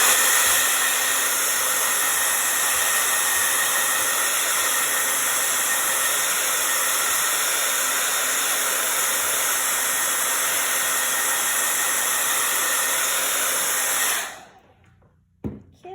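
A hair dryer blows steadily on wet craft paint as a strong, loud, close whoosh that holds constant for about fourteen seconds and then cuts off abruptly into near silence.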